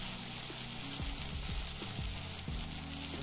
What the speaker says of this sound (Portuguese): Eu vou botar outras ali pra já ir fritando.